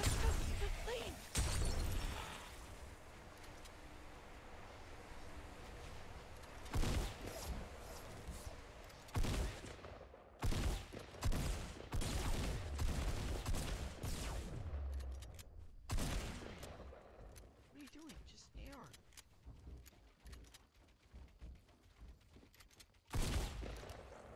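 Rapid bursts of gunfire in a video game shootout, with sharp volleys and crackling shots stacked close together in irregular clusters, a few louder blasts standing out, and voices talking over the action at times.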